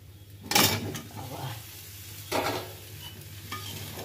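Fried potatoes tipped into a pan for a spicy Thursday paneer dish and stirred, giving two loud bursts of sizzling and scraping followed by a softer third, with a steady low hum underneath.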